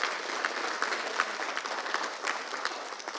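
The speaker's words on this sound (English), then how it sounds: "how about a quick hand of applause for Dan and his crew?" A business forum audience gives a quick round of applause, a steady crackle of many hands clapping together, even in level throughout.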